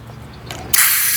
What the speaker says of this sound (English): So now we can seat the bead back on the rim.